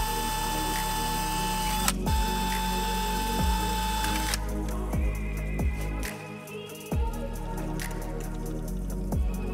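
A metal shear cutting flexible rear diffuser brackets for a Nissan 370Z, with repeated sharp snipping clicks and a brief electric whine, close by and without talk.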